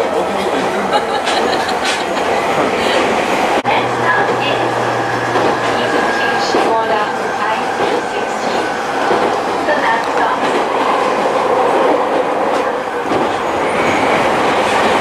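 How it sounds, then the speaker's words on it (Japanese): An Izu Kyuko electric train rumbles along steadily with continuous rolling noise and faint rail clatter, heard from inside, with people talking over it. "アロハ電車ということです。"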